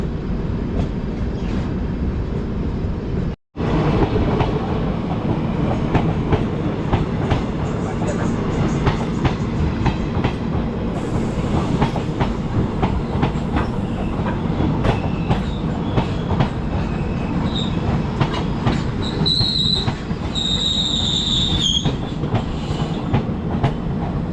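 The Howrah Amritsar Mail passenger train runs along the railway with a steady, loud rumble and wheel clatter that fills the whole stretch, broken by one brief cut near the start.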